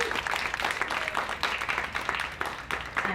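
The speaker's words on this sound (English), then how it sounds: "We can clap." Gallery audience at a Cuesta College art festival introduction applauding steadily, a dense even wash of many hands clapping throughout.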